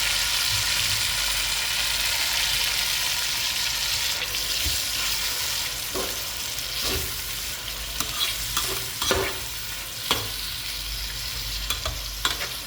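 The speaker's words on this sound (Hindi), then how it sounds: "ऑयल अच्छी तरीके से गर्म हो चुका है, हम इसमें प्याज ऐड करेंगे" Onions sizzle in hot oil in a pot, a steady loud hiss, then scattered stirring clinks and scrapes of a utensil against the pot later on, with no voices.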